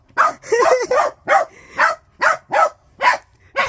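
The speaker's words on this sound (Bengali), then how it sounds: "ঘেউ ঘেউ করছে" A dog barks at a rabbit repeatedly in a steady rhythm, about eight sharp, close barks with brief gaps between them.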